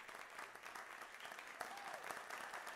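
Faint, thin applause greets debaters at a youth parliamentary debate session, a steady patter of claps throughout.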